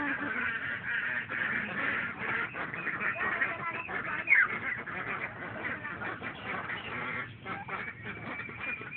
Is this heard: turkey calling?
yes